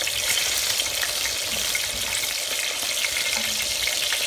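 Potato slices fry in a pan with cumin seeds, a continuous close hiss and crackle of hot oil with no talking.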